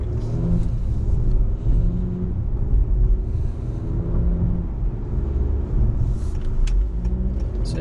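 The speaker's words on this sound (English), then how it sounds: "you'll be able to hear the turbo a little bit." A 2018 Honda Accord turbo engine hums with a steady, loud, low rumble while driving, accompanied by road noise throughout, with no talking.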